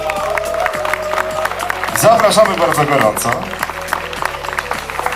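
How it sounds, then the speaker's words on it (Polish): Crowd applause and scattered cheering at an outdoor company anniversary picnic, heard mid-distance under a voice speaking over a loudspeaker, with steady background music throughout. "Wielkie brawa dla Roberta."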